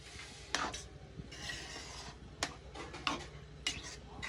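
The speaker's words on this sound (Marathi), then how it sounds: "त्याच्यामध्ये आता आपण टाकलेले पूर्ण 1 लिटर दूध. आपण याला घेऊ फिरवून" A spoon scrapes and clinks against a metal pot while halwa is stirred after a litre of milk has been added, giving rhythmic rubbing strokes with occasional sharp taps, close by and moderately quiet.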